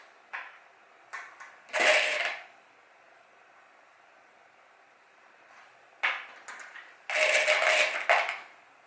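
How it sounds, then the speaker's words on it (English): Sewing machine basting around the edges of a zip-around long wallet, heard as two short bursts of stitching separated by a long quiet pause, with a few light clicks in between. "So we're just going to baste all the way around there"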